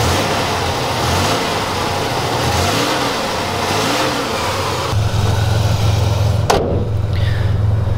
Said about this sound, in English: The exhaust sounds great.